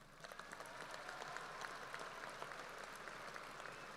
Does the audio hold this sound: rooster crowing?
no